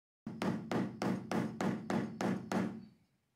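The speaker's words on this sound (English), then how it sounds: "After hammering down the stitches on one side," A hammer strikes down leather stitching in a steady series of seven sharp, evenly spaced knocks, close and clear in a quiet room, ending with a short fade.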